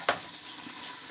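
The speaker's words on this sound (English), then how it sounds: "we're going to just let that sizzle in there for a bit" Food sizzling in a frying pan while cooking a salmon dinner with jambalaya rice and asparagus, a brief loud crackle at the start, then a steady soft hiss continuing alone.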